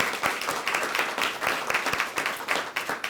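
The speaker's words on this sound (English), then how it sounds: "So let's give them all a round of applause again." An audience at a school student-recognition ceremony claps in a steady burst of applause, many hands patting in a dense, rippling wash that holds for a few seconds.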